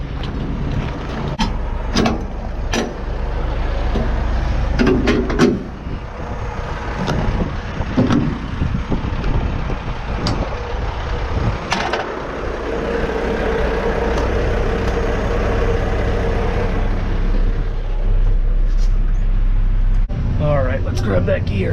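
A heavy dual rear axle tractor truck drives down in a valley with a steady low engine drone and road rumble. Occasional clanks and knocks sit over the drone while people talk inside the cab.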